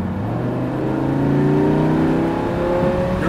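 Lamborghini Huracan on the Portland International Raceway circuit, its engine pulling hard under acceleration with a loud, steady roar and rising harmonic tones, close and continuous with no talk over it.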